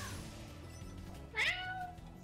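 One short, clear cat meow rises over a steady droning music and ambience bed in the Spyro Reignited Trilogy video game, heard alone without talk.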